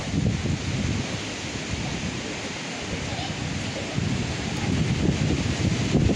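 Wind sweeps through a campsite at Le Moulin des Icles in the Var, France, a continuous blustery rumble that buffets the microphone and swells toward the end.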